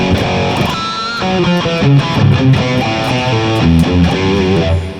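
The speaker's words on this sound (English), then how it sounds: "it's a straight up Les Paul, mahogany body, you know, maple cap" A Les Paul electric guitar with a mahogany body and maple cap plays sustained chords and picked notes through its pickups, with a warm, slightly driven tone, ringing steadily throughout.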